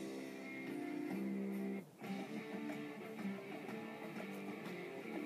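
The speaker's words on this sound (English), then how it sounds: "You can hear the music playing in the background" Steady, full-band rock music plays from iTunes, loud and continuous with a brief dip partway through.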